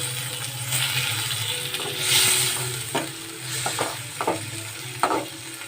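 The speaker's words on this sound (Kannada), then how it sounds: "ಟೊಮೆಟೊ ಹಾಕಬೇಕು ಕೂಡ ಫ್ರೈ ಮಾಡ್ಕೊಳ್ಳಿ" Tomatoes frying in a pan for gobi 65 sukka, a soft continuous sizzle broken by several sharp scraping knocks of a spoon stirring against the pan, close up with no talk.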